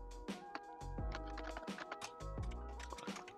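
Fast, loud clacky typing on a new mechanical keyboard with blue switches, close up, with dense irregular key clicks and heavier thuds from bottoming-out keys, with no talking.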